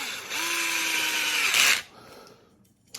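Electric screwdriver driving a screw into a Traxxas TRX4 RC crawler, a close whirring motor rising briefly in pitch for about a second and a half, then a clutch click and stop, followed by quiet handling.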